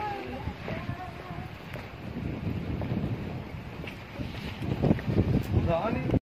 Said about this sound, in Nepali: कस्तो मिठो हावा पनि चलिरहेको छ सरर